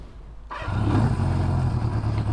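An old motorcycle, left off the road for 40 years, fires back up after a brief quiet moment, then settles into a steady, close, rumbling idle.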